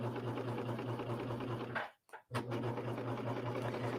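A serger sewing machine stitches along a fabric edge while beading, running in a steady close mechanical whir that stops briefly partway through and then resumes.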